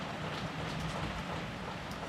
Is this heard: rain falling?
yes